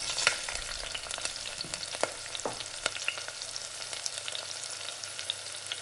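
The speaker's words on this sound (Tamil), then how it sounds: "அதுக்கப்புறம் இப்போ பிரியாணி லீஃபு, பட்டை, ஷாஜீரா, அன்னாச்சி பூ, லவங்கம், ஏலக்காய் எல்லாத்தையும் நான் வந்து சேர்த்துக்கிறேன்." Whole spices for egg biryani (bay leaf, cinnamon, shahjeera, star anise, cloves and cardamom) sizzle steadily in hot oil in a pot, with a continuous close crackle and scattered sharper pops throughout.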